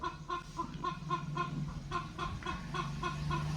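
Multicoloured hens clucking repeatedly in short, close bursts, a steady busy chatter with a low murmur of other birds beneath.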